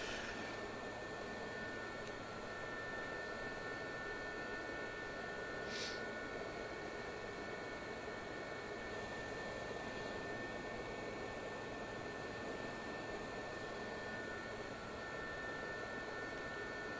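Gazelle helicopter engine and rotor in the DCS flight simulator, a constant turbine whine and broadband roar at steady volume throughout, with no talk.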